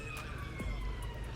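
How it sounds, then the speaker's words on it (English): Emergency vehicle sirens wail on a London street, a steady wavering tone heard at a distance over a constant hum of traffic noise, without anyone speaking. "sirens."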